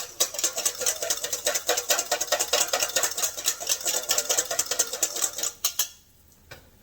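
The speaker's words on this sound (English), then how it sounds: "we're just going to whisk it real quickly" A whisk beats a lime vinaigrette for corn salad in a bowl, a fast, steady run of close, bright metallic clicks and scrapes that carries on for several seconds and then abruptly stops.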